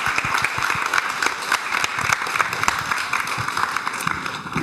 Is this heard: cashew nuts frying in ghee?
no